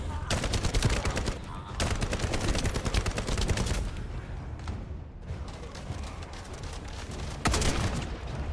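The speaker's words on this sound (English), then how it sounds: "Yeah, like the guns sound and feel really good" Rapid bursts of gunfire from a shooter video game, dense and loud, with volleys rattling almost continuously across the whole stretch and brief gaps between bursts.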